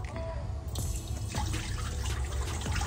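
Clorox bleach water being dumped out from a container into a sink, a continuous splashing pour close by, fairly quiet, with a faint voice in the background.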